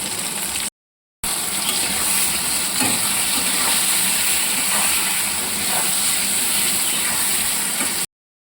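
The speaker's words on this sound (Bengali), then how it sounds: "আগে থেকে সেদ্ধ করা আলুগুলো তেলের মধ্যে দিয়ে দিচ্ছি" Boiled potatoes frying in hot oil with salt and turmeric give a steady, loud, close sizzle and hiss that runs on continuously, broken by one brief silent gap near the start.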